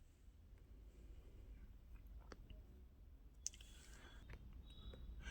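Computer mouse clicks while an online voter ID application form is filled in, a few sharp isolated clicks over a quiet room hum.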